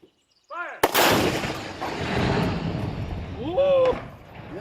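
A cannon fires with one sharp, loud blast that rolls into a long rumbling boom, while excited voices shout and cheer before and after the shot.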